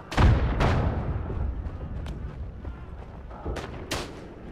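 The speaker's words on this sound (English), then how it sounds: "hopefully take a few guys out with this pistol" Gunfire in the First World War video game Isonzo, a few sharp, booming reports with long rolling echoes, one loud nearby shot followed by several more distant ones spaced irregularly.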